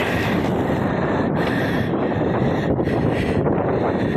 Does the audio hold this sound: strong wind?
yes